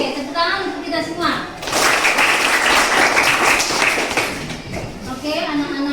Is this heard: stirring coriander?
no